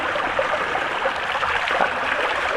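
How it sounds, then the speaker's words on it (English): Groundwater pours steadily out from underneath a pool being turned into a pond, a close, continuous rushing trickle like a small stream, with no voices. "That's the water coming out from underneath of the pool. It is just pouring out at the moment."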